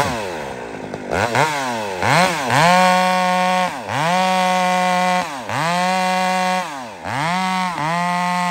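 Chainsaw engine revving on and off the throttle, repeated rising and falling surges of pitch about once a second, loud and close with no talk.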